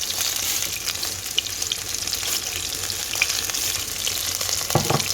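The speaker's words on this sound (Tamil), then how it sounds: "இப்போ வெந்தயம் போடலாம்" Fenugreek seeds frying in hot oil while crab curry is being made: a steady, close sizzle and crackle with occasional small pops and light stirring, and no speech.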